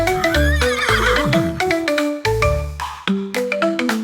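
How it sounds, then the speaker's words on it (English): A horse neighs with a wavering whinny amid bright, plinking musical notes that play in a rhythmic melody throughout. "It's a horse. Neigh, neigh,"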